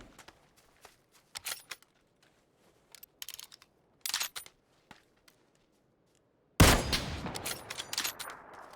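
Gunfire in PUBG, scattered short single shots and bursts at moderate distance, then a loud sustained burst of rapid fire near the end, with quiet gaps between.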